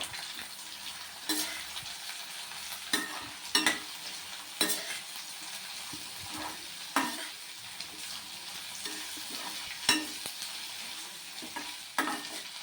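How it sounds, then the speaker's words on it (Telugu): Small dried fish fry in oil in a pan for a gongura curry, a soft background sizzle punctuated by regular scraping stirs and clinks of a utensil. "ఇప్పుడు మెత్తళ్ళు వేసుకుందాము నూనెలోనే."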